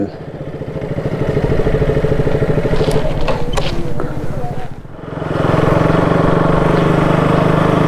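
A motorcycle engine hums steadily nearby through village lanes in Manang, Nepal, dipping briefly as it slows, then picks up again, with some clatter and faint voices around.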